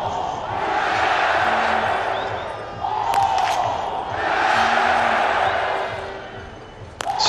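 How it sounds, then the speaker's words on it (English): A stadium crowd at a women's biathlon world championship cheers for the Czech biathlete Sokolova in two long swelling waves, loud and broad, with a few sharp claps or knocks between them. "Sokolova getting a bigger cheer than anyone else in the stadium"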